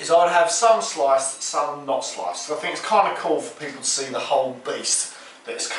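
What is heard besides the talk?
No everyday noises stand out.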